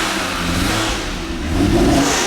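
A Toyota Supra with a JZ engine and a stock SE300 exhaust revs loudly and steadily at close range, the note rising near the end, with no voices over it.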